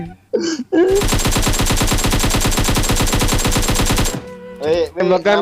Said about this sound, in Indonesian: Tembakan kemenangan ya.